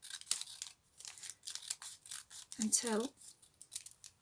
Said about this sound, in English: I'm going to cut off all along here